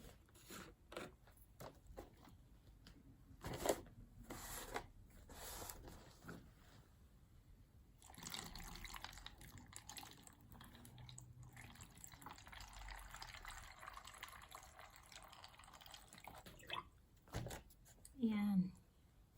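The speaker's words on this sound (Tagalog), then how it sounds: "lagyan nyo na ng tubig." Water poured into a container holding cabbage cuttings for rooting, heard as intermittent splashing and trickling bursts mixed with handling clatter, with a voice speaking in the background.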